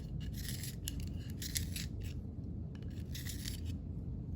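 Plastic handheld pencil sharpener scraping as a pencil is twisted in the hole, a close, steady grinding rasp in repeated bursts with short pauses between turns.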